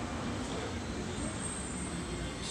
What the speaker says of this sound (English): Look, there's the train coming in.